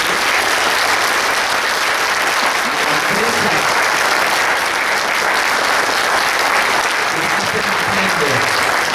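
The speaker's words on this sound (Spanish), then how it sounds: "damos un aplauso bien fuerte" Loud, dense applause from an audience at a dietotherapy seminar on obesity, diabetes and cardiovascular disease, sustained evenly for several seconds, with faint voices murmuring beneath.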